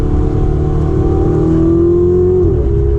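Ferrari 488 Spider engine revs loud and close on a downshift to second while cornering, a steady droning note that climbs in pitch and then drops sharply near the end.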